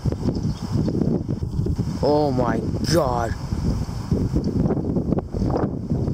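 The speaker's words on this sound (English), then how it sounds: "It was one of very big gusts." Strong storm wind gusts roar continuously as broadband buffeting noise across the microphone, with a person exclaiming loudly over the blustery rush.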